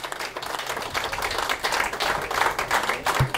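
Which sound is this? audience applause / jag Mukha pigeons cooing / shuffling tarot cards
audience applause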